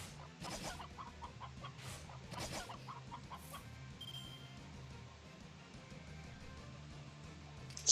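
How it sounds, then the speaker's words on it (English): Cartoonish chickens cluck in repeated short bursts over a steady game backdrop of low music and ambience in the mobile RPG Fate/Grand Order, fairly faint and continuous throughout. "Still find these chickens greatly amusing."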